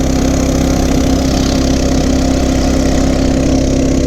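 Coleman CT200U mini bike engine held at full throttle, a loud, steady, buzzing drone close by with no break.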